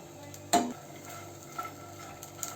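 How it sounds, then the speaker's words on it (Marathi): Green chillies and garlic roast in a pan for a Maharashtrian thecha, with one sharp clatter near the start followed by a faint, steady low sizzle and a couple of small scraping taps. "मिरच्यांना असे काळे काळे डॉट यायला लागले आपल्याला पूर्ण छान भाजून घ्यायच्या"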